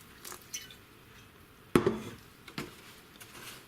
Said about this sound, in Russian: Поэтому я его поливаю, чтобы он впитал воду.